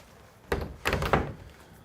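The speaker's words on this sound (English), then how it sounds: "Let me shut the door." A door is shut indoors, giving three close, dull thumps in quick succession with no talking.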